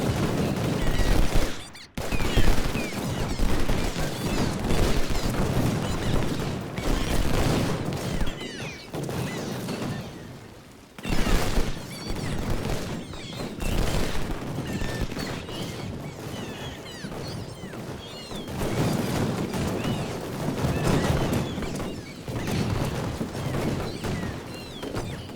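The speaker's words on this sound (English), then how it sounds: "I'm going to deal with that one cannon and let my artillery pound them with impunity" Artillery cannon fire in Ultimate General: Civil War during the Fredericksburg battle, a dense, continuous rumble of booming volleys and crackling musketry rolling on for the whole stretch with brief dips.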